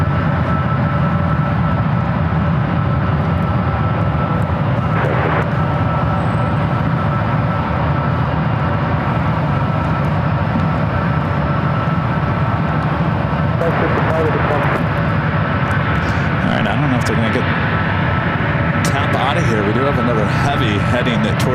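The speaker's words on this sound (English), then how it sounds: "It's Turkish Airlines flight 79 coming from Istanbul, a 777-300ER." A Turkish Airlines Boeing 777-300ER jet airliner near San Francisco airport, heard as a loud, steady roar that holds for over twenty seconds, with a few faint sounds and brief noises scattered over it.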